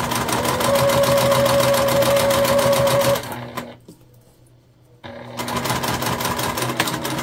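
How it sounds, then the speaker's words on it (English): A Juki TL2010Q sewing machine top stitches faux leather with Tex 35 thread, a fast, steady mechanical chatter close up that stops for under two seconds and then resumes at the same rapid pace. "we stitched and now we're top stitching"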